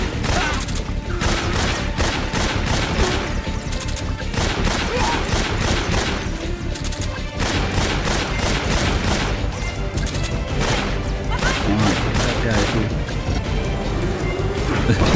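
Rapid bursts of gunfire from the Metal Gear Solid video game, dense repeated shots and crashes running almost continuously at high loudness with little pause.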